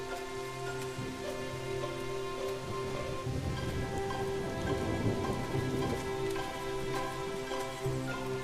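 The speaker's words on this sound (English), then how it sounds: "the rain falls to the ground again, bringing the water back to the ancient forest of centenarian oaks" Hard rain falls steadily in an ancient Mediterranean forest of centuries-old oaks, a dense continuous patter with a low steady tone underneath.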